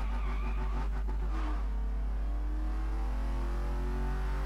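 Porsche Panamera Turbo S engine in Need for Speed Most Wanted 2012, a steady mid-pitched drone with a brief surge of revving at the start before settling into a smooth cruising hum, close and continuous.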